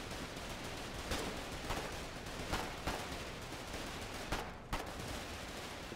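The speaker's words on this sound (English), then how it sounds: "Something shooting us to the left?" Shots strike and crackle around a tank during a battle in Foxhole, spaced bursts of gunfire popping out of a dense, steady rumble of engine and combat noise.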